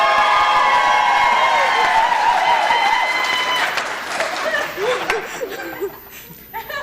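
Conference audience applauding and cheering for a co-host at an innovation challenge event, loud crowd clapping with whoops and laughter that gradually fades, while a voice begins talking over the tail end.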